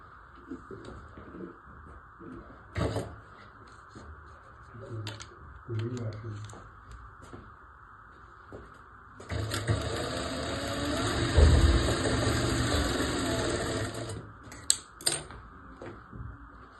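A sewing machine stitches a folded seam on a one-year-old baby's frock, running in one steady whirring burst of about five seconds mid-clip, with a few short clicks and spoken instruction around it.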